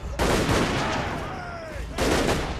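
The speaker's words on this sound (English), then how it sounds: "the Empire's fielding a lot of artillery in this battle" Dense battlefield gunfire and booming artillery volleys from the Empire's forces in Total War: Warhammer at Black Fire Pass, loud and continuous, dipping briefly before another heavy burst.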